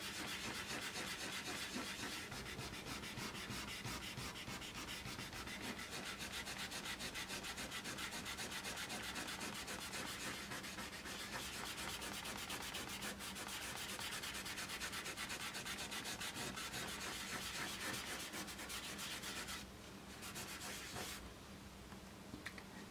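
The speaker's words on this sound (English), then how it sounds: "I'm just rubbing quite firmly actually. I'm pressing quite hard." Steady, close scratchy rubbing on drawing paper, pressed hard with a firm back-and-forth motion that continues almost without a break as a dry, hissing texture.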